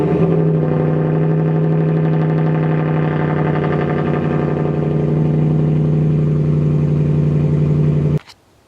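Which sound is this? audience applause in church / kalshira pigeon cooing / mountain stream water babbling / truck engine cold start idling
truck engine cold start idling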